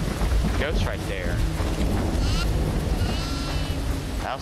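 Goat bleating in the horror video game DEVOUR, a few short, wavering bleats heard over a dense, rumbling in-game ambience that stays loud throughout.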